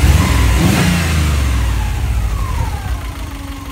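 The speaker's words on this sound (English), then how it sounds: "Let's see if we can get it to rev a little." A dual overhead cam Subaru 2.5-litre JDM engine fitted in a 1976 VW Bus revs up close by with a loud rising roar, then settles back toward idle.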